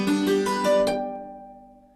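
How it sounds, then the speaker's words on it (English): A quick rising run of piano notes ends on a final note played with the dampers down, so the last tone fades gradually rather than ringing on. Close, solo piano with no talking. "So the last note is being played with the dampers down."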